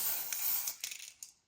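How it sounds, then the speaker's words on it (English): Marabu satin matte acrylic spray paint hissing from an aerosol can indoors in steady close bursts for about a second, then breaking into a few short sputtering puffs that fade out. "I'll use this satin matte color spray by the company Marabou"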